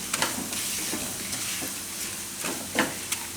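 Flour stirred a little at a time into garlic in a hot pan for spaghetti sauce, a steady soft sizzle of frying with scattered scraping taps of the spoon against the pan, close and continuous.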